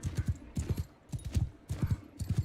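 Horse hooves clip-clop in steady trotting clusters in the video game Bannerlord 2, close and clear, with a faint voice underneath.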